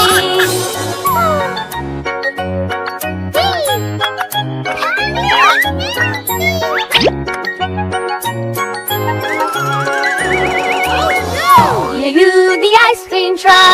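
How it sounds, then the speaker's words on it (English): Bright tinkling bell chimes ring through a cheerful children's nursery rhyme song, repeating in quick bursts over a bouncy backing tune with playful melodic flourishes throughout. "Do you hear the cheerful bell that calls us down the lane?"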